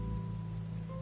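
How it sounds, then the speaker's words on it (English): Rain falling in the game Wuthering Waves, a soft, steady patter with a low background hum and no voices. "Rain's back."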